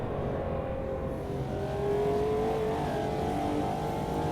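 A McLaren F1 V12 LM accelerating in the racing game Automobilista 2, its V12 engine note rising steadily in pitch and intensity as it pulls through the gears, continuous and close with no voices.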